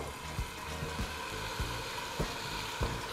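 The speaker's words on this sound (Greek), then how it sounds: "Και ρίχνω τα μανιτάρια μέσα στην κατσαρόλα για να τα σοτάρω." Mushrooms sautéing in olive oil in a pot give a steady close sizzle with a few soft clicks and pops, with no talking.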